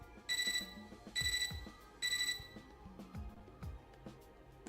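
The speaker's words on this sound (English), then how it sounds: "Our mutual silence is interrupted by my computer terminal's beeping." Beeping from a computer terminal in the video game Fate/EXTRA: three bright, evenly spaced electronic tones sound at full volume, followed by quieter clicking game sounds.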